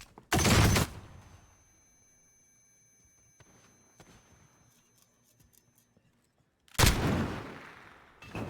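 Call of Duty gunfight with a .357 revolver and a sniper rifle: two loud, booming shots several seconds apart, each echoing out, with faint clicks and movement in the quiet gap.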